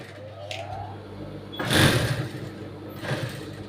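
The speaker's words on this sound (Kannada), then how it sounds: "ನೋಡಿ, ಈ ರೀತಿಯಾಗಿ ಸ್ಟಿಚಿಂಗ್ ಮಾಡ್ಕೊಳ್ತೀನಿ" A sewing machine stitches the back neck of a blouse in two short bursts, a louder whirring run followed by a briefer one, close by, with faint talk in between.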